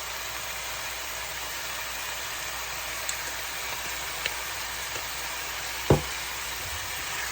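Chicken cordon bleu, stuffed with asparagus, browns in a hot pan on high heat, giving a steady low sizzle that runs throughout with a few faint clicks and one sharp knock near the end.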